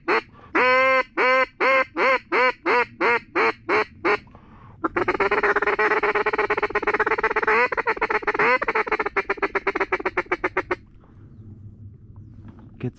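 Geese or ducks call in a rapid series of loud nasal honks overhead during a duck hunt, followed by a longer stretch of dense, overlapping honking from a flock that thins out and fades near the end.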